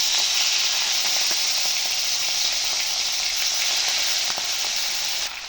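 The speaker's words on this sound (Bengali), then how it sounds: "এখন আমি একটা একটা করে মাছগুলোকে দিয়ে দেব তেলে।" Prawns fry in hot oil with a loud, steady, close sizzle and hiss that carries on without a break, with small crackles scattered through it.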